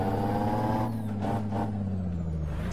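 Dump truck engine in American Truck Simulator, a steady low droning rumble with a sustained hum that dips slightly in pitch as the truck slows, and a brief hiss partway through.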